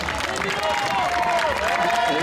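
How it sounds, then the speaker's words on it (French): A crowd applauding with dense, continuous clapping for a rider crossing the finish line at a youth cycling race, while a voice carries over the top. "On va applaudir comme il se doit."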